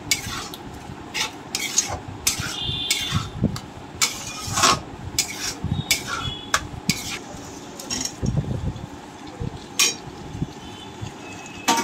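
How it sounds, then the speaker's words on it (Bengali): Salt is worked into a spice paste in a pan for a prawn and pointed gourd dish, with brisk scraping strokes and clatters of the spatula in uneven bursts, near and clear over a low sizzle. "স্বাদ মতো নুন, ভালো করে মশলাটার সাথে মিশিয়ে নিচ্ছি।"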